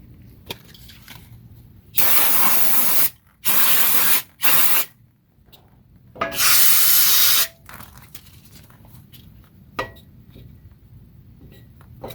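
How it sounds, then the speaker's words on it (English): Aerosol brake cleaner sprays from a can into a brake hole during rear brake work on a 2013 Ford Mustang 3.7 V6, three loud hissing bursts of about one second each, separated by short pauses with faint clinks. "So be careful when you're spraying in that hole if you don't have a straw"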